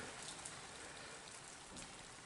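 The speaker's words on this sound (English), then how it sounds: "It's not particularly heavy rain, but it's rain." Light rain falls steadily outdoors, a continuous soft patter of drops on surfaces at an even, moderate level with no voices.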